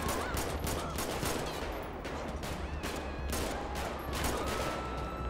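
Gunfire in GTA V with the LSPDFR police mod, a dense run of rapid shots crackling repeatedly through a city shootout, loud and fairly steady with no talking.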